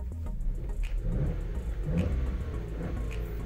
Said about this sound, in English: Now I'm again revving the engine.